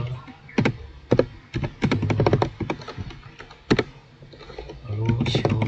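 Typing on a computer keyboard, irregular clusters of crisp close key clicks and taps, moderately quiet, with a voice speaking over them at times.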